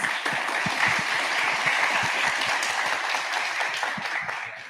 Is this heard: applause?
yes